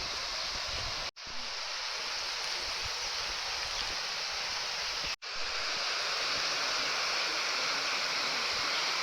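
Water flowing through the round-shaped outlet of Chiklihole dam in Coorg, a steady close hiss and rush with no voices, briefly cut out twice by short silent gaps.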